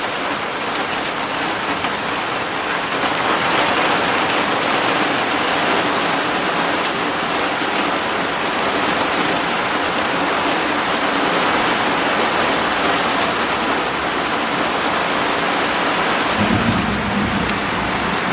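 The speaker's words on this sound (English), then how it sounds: "It's really raining out." Heavy summer rain pouring steadily, a dense, constant hiss of water falling outdoors with no talking.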